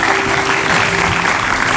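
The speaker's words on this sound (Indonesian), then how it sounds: "Oke, tepuk tangan dulu" Audience applause at an Indonesian talk show honoring a young inventor of solar-powered roof tiles, a steady dense wash of clapping filling the whole moment without pause.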